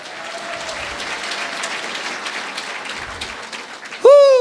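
A church congregation in Sucre, Bolivia claps steadily at a fairly even level, and near the end a loud voice cuts in over the applause.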